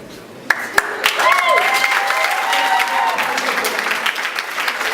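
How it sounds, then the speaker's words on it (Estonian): Crowd at a school Christmas party breaking into applause, dense sustained clapping that starts with a few sharp claps and swells, with a voice speaking over it. "Aitäh tänastele žüriile, aplaus veel kord, aplaus."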